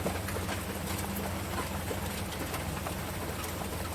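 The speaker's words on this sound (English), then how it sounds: "we We were survived. going to plan something, but this rain happened." Steady rain falls in a dense, even hiss, with faint scattered bird calls mixed in and no talking.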